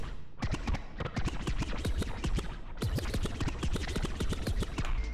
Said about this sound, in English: Sort of a more conventional scratch sound.